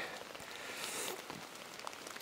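Rain falls steadily at a wilderness campsite in winter, a faint, even hiss of drops with occasional soft patters, heard alone.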